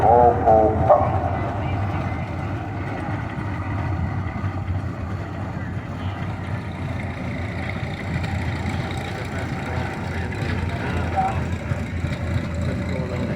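A 1978 Rumley Oil Pull tractor engine runs steadily at a parade, its low, continuous chugging drone sustained throughout, with a voice talking over it near the start.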